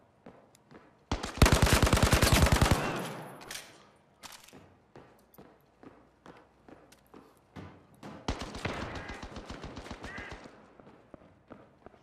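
Gunfire in the VR shooter game Zero Caliber: loud bursts of rapid automatic fire come in two long volleys, separated by scattered single shots and clicks, with no talking.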